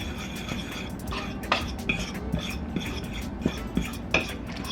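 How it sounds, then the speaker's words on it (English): Baking powder and sugar are stirred into flour in a mixing bowl, giving soft scraping swirls punctuated by occasional clinks of a spoon against the bowl, close and fairly quiet. "I'm now going to stir these in together like this"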